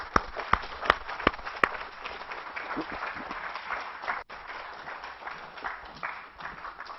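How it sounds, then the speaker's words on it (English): A crowd claps steadily for several seconds, with a few sharper, louder claps standing out near the start, fairly close. "Everybody give them a round of applause."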